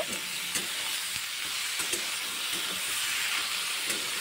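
Rui fish and potatoes with salt and turmeric are stirred in a pan, giving a soft, continuous sizzling hiss with faint irregular scrapes, quiet and close, with no voices.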